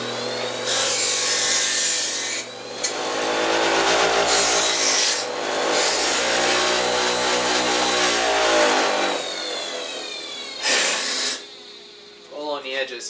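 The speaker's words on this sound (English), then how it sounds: "get yourself your grinder. And more or less go along the edges." A grinder smoothing the edges of rusty metal greave pieces, with loud whining, rasping bursts that rise and fall as it is pressed and lifted along the edges, then a few shorter passes near the end.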